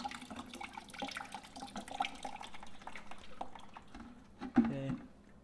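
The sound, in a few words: water draining out of a motorcycle cooling system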